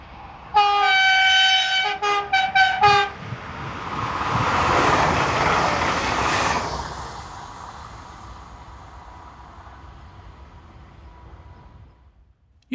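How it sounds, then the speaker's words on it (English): A Eurocargo Rail Class 186 locomotive hauling a southbound freight train comes to a stand in a freight loop: a few loud, close horn blasts, then a broad rolling rumble and squeal that gradually fades as the train stops. "Eurocargo Rail Class 186, number 315, comes to a stand in the southbound freight loop, hauling train 44291 from Offenburg to Mulhouse North Yard"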